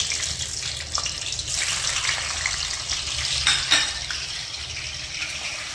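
Paneer pieces frying in a pan, a steady bright sizzle with a few soft scrapes and clinks as they are stirred, close and continuous with no talking.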